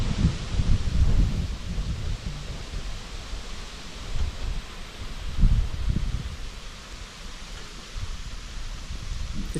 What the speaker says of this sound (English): all you can hear as well is the rustle of the leaves in the trees and the wind